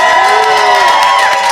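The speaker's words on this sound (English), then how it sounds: "We got a rowdy crowd here today." A rowdy crowd of associates in a room cheers and whoops loudly, a dense continuous wall of voices with rising shouts close by.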